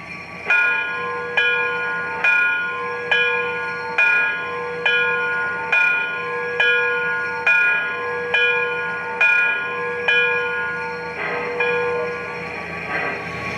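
The locomotive bell on an MTH Erie Triplex 2-8-8-8-2 model steam engine rings steadily, about one strike per second, each clang bright and ringing, close and alone before a slight change near the end.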